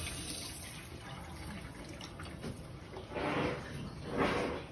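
Water flushing through a hose from an opened boiler drain valve on a steam boiler's hydronic zone: a steady hiss and splash that swells in two louder surges near the end, close by with no speech.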